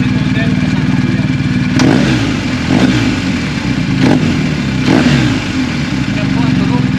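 A 2023 BMW 1250 GS motorcycle with an Akrapovic exhaust idles steadily up close, with four short blips of the throttle spaced a second or so apart, and someone talks over it.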